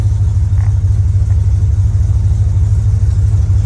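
A 1988 Corvette with a 383 V8 and MagnaFlow exhaust runs steadily, a loud, close, deep rumble holding an even idle throughout.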